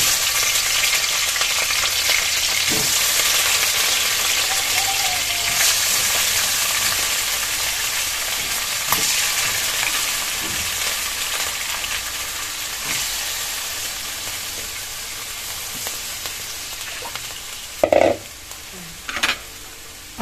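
Chicken meat for adobo fries in a pan with a steady, moderately loud sizzle, punctuated by a few sharp clinks of stirring near the end.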